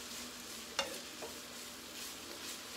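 Sausage finishing in a pan after hamburger meat has browned, giving a faint, steady frying sizzle with one brief scrape of a utensil against the pan and no talking.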